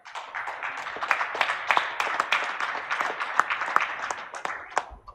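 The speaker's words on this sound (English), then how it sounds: "a big round of applause for all of them" A symposium audience at the Bharat6G Symposium 2025 valedictory session claps together, a dense, fairly distant round of applause that holds steady for about five seconds before trailing off.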